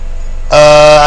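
A 2014 Mitsubishi Outlander PX sounds a single loud horn chirp from its alarm when the keyless remote is pressed. The chirp starts abruptly and holds steady for just over half a second.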